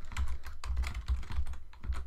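Rapid typing on a computer keyboard while entering code for a LÖVE 0.9.0 game tutorial, a steady run of close, crisp key clicks with no voice over them.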